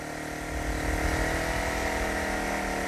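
A Champion 2500W dual fuel generator engine labours at maximum load in a steady close drone, its pitch sagging slightly as the revs drop, with no talk.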